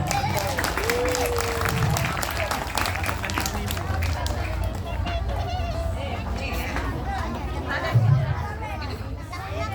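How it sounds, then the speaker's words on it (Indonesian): School pupils and teachers clap together at a morning gathering, a broad, sustained patter of applause mixed with children's chatter and voices throughout, with a brief louder thump partway through. "Tepuk tangan untuk kita semua."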